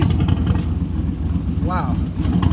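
A Smokey Yunick tribute Chevelle with Varex mufflers, its engine rumbling loudly at close range with a choppy low burble, while a person speaks briefly over it.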